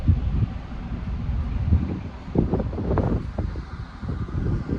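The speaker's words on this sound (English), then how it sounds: "Very windy." Strong wind buffeting the microphone in low rumbling gusts on the deck of a ferry sailing from Spain to the UK, with a faint mechanical drone underneath; no talking.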